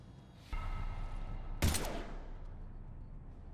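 Gunfire in a Mass Effect 3 combat scene: a burst of shots begins suddenly and a sharper, louder blast follows a second later, then both trail off into a rumbling tail.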